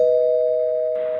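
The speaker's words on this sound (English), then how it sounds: "There's the bell." A doorbell rings in a staged audio drama of Ibsen's A Doll's House, heard as one loud, steady, sustained tone with no voices over it.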